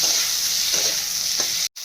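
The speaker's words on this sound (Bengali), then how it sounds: "পেঁয়াজটা ভালো করে ভেজে নেব।" Onion fries steadily in hot oil left over from frying paneer, a close, continuous bright sizzle with a couple of faint stirring scrapes, cutting off briefly at the end.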